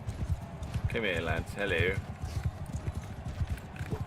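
Horse hooves clip-clop in the Mount and Blade: War Sails video game as a steady, rhythmic trot running throughout, while someone talks over it.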